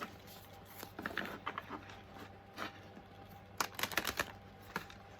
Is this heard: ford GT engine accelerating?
no